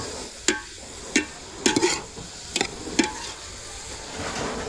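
Papaitan sautéed with fish sauce in a pan: a spatula clanks and scrapes against the pan in a loose rhythm of about six sharp hits over a faint sizzle.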